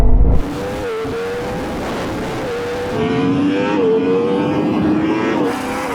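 A Yamaha R1M motorbike, a Porsche Taycan Turbo GT and a Ferrari SF90 launch in a drag race, with a loud sustained engine roar whose pitch climbs through several gear changes and stays close and continuous.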